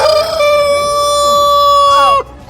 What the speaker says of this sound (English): Farmyard frizzled chicken.